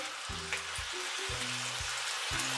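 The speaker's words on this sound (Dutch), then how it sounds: "En ondertussen is het eitje al lekker aan het bakken" An egg frying in a pan gives a steady close sizzle, with low tonal hums from the kitchen starting and stopping underneath.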